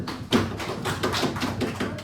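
Students in a classroom clap together in a quick, steady rhythm. The close, even claps run without pause for about two seconds, with no talking over them.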